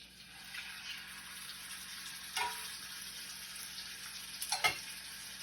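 A steak sizzling in oil in a Finex cast iron pan, a steady moderate frying hiss with a couple of sharper crackles and a tong clink, no talk.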